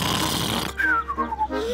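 A cartoon pig voice imitates a loud, drawn-out snore with a gliding nasal whistle, following a burst of noisy sound in a children's animated episode.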